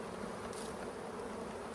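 Honeybees hum in a steady, dense, unbroken drone as they are moved during a hive split, the buzz quiet and even throughout.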